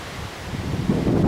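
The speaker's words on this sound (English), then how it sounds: "And it's windy as well." Wind buffets a microphone in a low, rumbling rush on a Scottish hill walk near Crieff, gusting slightly stronger toward the end of a brief moment.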